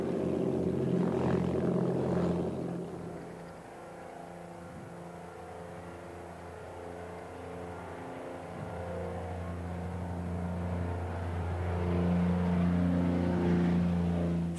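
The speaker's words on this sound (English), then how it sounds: "it's still a stable aircraft because it's still a Basset, the host aircraft" A Basset aircraft drones steadily in flight, a continuous propeller engine hum heard from the cabin that swells and eases in loudness.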